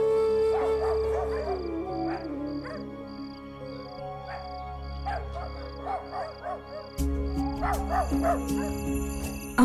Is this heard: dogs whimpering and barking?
yes